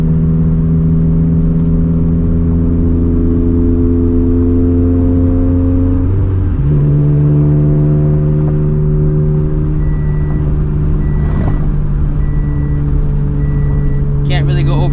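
A turbocharged Scion FR-S on a stock motor drives on the street during a tune, its engine a loud, steady drone with a pitch shift as it changes gear, close and continuous with a brief whoosh near the end.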